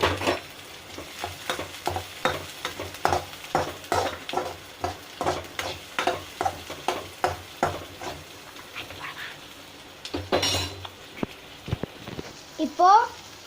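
Onions frying while being stirred in a pan, with a steady run of close spoon scrapes over a continuous sizzle and a dog barking briefly near the end.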